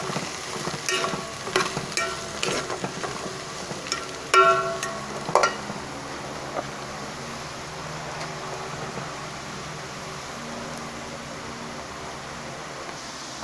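Vegetables for ginisang gulay are sautéed in a pan: bursts of stirring and clattering early on, then a steady soft sizzle that continues on its own.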